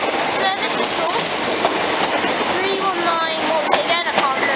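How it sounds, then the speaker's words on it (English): A Thameslink Class 319 electric train runs past close by in Farringdon, a steady loud rush of wheels and motor noise with rhythmic rail clatter throughout. "The West Hampstead train, 31943, just interrupted."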